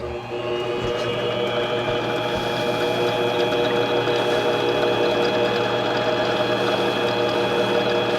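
A lathe spins 1018 steel at high RPM while 5000-grit abrasive polishes it, giving a steady, loud whirring drone with constant mechanical tones and a faint rattle throughout, with no talk.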